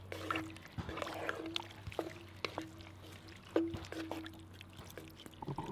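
Cooked navy beans in their liquid are poured from a can into a pot in a kitchen, a quiet run of wet plops and metallic clinks and scrapes recurring about every second, close up and fairly faint.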